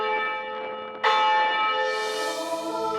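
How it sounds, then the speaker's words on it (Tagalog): Church bells ring from a bell tower, a sustained metallic tone that swells as a fresh, louder strike lands about a second in, with rich overtones ringing on alone. "kapag umalingaw-ngaw na ang mga kampana mula sa kampanaryo nito"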